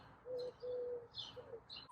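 A hen in a coop calls while waiting to lay an egg, giving a few soft, drawn-out tonal clucks spaced about half a second apart, faint and close.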